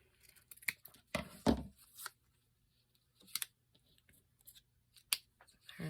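Scissors snipping through paper shapes, a few close, crisp cuts in short clusters with quiet pauses between them, no talking.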